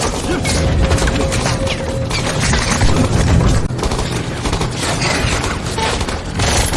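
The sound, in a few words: gunfire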